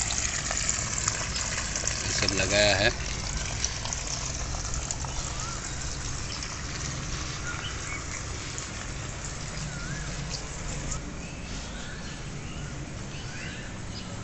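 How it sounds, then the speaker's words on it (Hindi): Water poured onto garden plants of chili, bitter gourd and okra, a steady splashing gush with a louder burst early on, while someone talks over it. "पौधों पर पानी दे रहा हूँ।"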